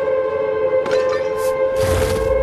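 A steady alarm siren sounds in the video game Oogie's Revenge, holding a sustained tone with bright overtones, while brief noisy bursts of game sound effects flare over it.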